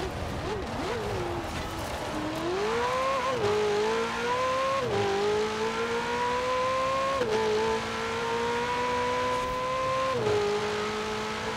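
A Ferrari in the racing game Forza Horizon 4, its engine droning loud and steady, rising in pitch through the gears with brief dips at each shift, continuous and close throughout with no talking.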